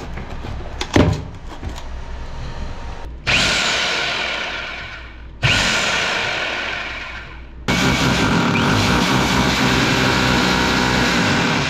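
A Powerhouse SDS rotary hammer drills in three loud bursts, each starting abruptly and then grinding steadily at close range, with the last burst running on to the end. Short knocks and clatter come before the first burst.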